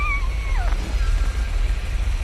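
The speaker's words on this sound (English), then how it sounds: "No, that sounds like a screech. Like, sounds like a crying cat." A short crying, cat-like screech from a creature in the VR game Animal Company rises and then falls over about a second, sounding distant and eerie against a steady low background rumble.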